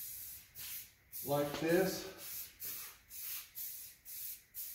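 Short repeated bursts of aerosol spray as a guide coat is dusted over primer on a 1964 Impala body during a frame-off build, about six rhythmic hisses, with someone speaking briefly partway through.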